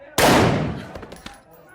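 A single loud gunshot blast in a cartel movie shootout, with a sharp attack decaying over about half a second, followed by a few faint knocks.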